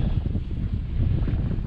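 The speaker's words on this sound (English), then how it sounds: "So yeah, it's a bit windy" Outdoor wind on a cold day buffets the microphone of a small action camera, a steady low roaring rumble with no let-up and no voices.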